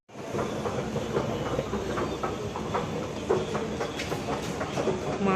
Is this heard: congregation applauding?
no